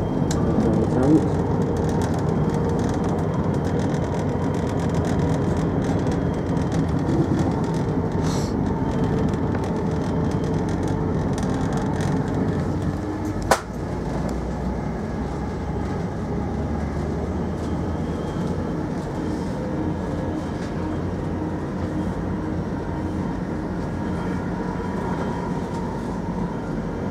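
Steady rumbling roar of a passing train with enormous wagons, a rail grinding machine, near Birmingham, continuous and loud throughout, with one sharp clank midway.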